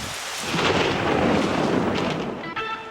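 Heavy thunder rolls through a downpour at a baseball stadium, a loud, sustained rumble over steady rain for about three seconds, with no talk.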